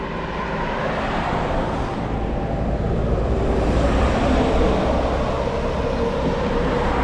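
Dense road traffic roars steadily throughout, heard from a bicycle ride, with a constant broadband rumble and no distinct individual vehicles standing out.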